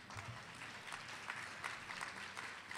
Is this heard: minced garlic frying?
no